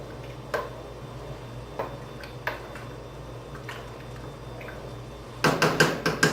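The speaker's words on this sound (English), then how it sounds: "Give that a stir." A spoon taps and scrapes inside a pot of beef stew as cayenne pepper is stirred in, with sparse clinks at first and then a quick run of louder knocks against the pot at the end, close and without talking.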